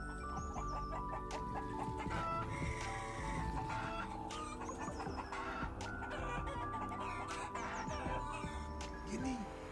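Cartoon chickens cluck and squawk at night in an animated Bangla horror story, a busy flock of overlapping calls with a rooster-like crow, loud and close over a continuous layer of background music.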